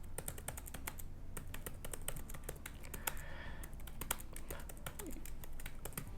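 Rapid, steady keystrokes on a computer keyboard as someone types out The Great Gatsby, with close, crisp clicks in an irregular, continuous rhythm and no voices.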